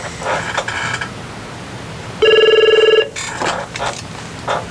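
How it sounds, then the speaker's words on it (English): A telephone at a legal services office rings once in a steady, buzzing electronic trill lasting under a second, loud and close, with indistinct background voices before and after it. "Watch Jose answer the phones"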